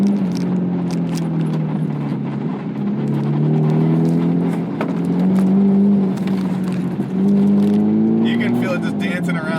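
A 2007 Mazda MX-5 Miata's exhaust drones steadily from inside the cabin while driving, its engine note rising and falling with throttle, and a person talks over it.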